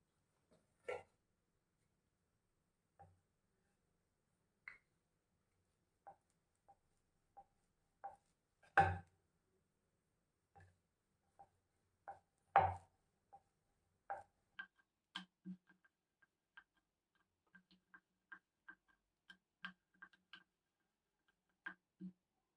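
A knife cutting thin-rolled dough into small nimki shapes, sparse quiet taps and clicks on a board at irregular intervals, close but faint in otherwise near silence.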